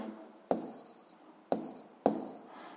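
Notes written by hand during a physics lesson on friction force: three sharp taps of a pen or chalk each followed by a short scratching stroke, close and quiet, with no talk.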